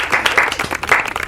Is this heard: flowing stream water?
no